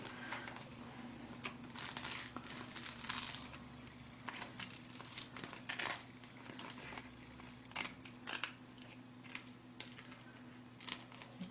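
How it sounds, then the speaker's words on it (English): Glue film peeled from a cutting mat makes faint crackling and sticky ticking in quiet bursts, small crisp snaps scattered over a low steady hum. "then I'm going to go ahead and peel it off of the cutting mat"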